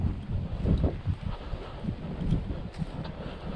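Steady wind buffeting a Nikon camera's microphone covered by a furry windshield, a continuous low rumbling roar with gusty swells, close and fairly loud, without any voices.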